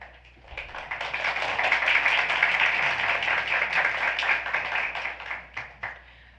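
An audience at a board of education meeting claps after a speaker finishes. The applause is moderate, swells quickly, holds steady for several seconds, then thins out into a few scattered claps.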